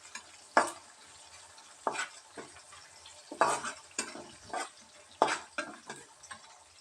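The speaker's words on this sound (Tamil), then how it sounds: "நல்லா ட்ரை ரோஸ்ட் பண்ணுறோம், வறுத்து எடுத்துடலாம்." Cloves, fennel, cumin, black pepper and coriander seeds dry roasting in a pan for a Chettinad mutton gravy, heard as quiet, irregular bursts of rattling and scraping as the seeds are stirred.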